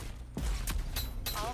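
Gunshots from the shooter game Rogue Company, a few sharp cracks spread over a second and a half, moderately loud amid game sounds, with brief muffled talking.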